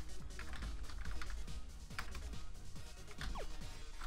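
Rapid keyboard typing for an essay pop quiz in the video game Undertale: a steady, dense run of crisp key clicks at close range with no voices.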